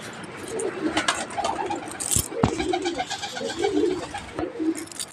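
Racing pigeons in a loft coo in repeated soft, throaty bursts close by, with a couple of sharp knocks and some faint chirps in between.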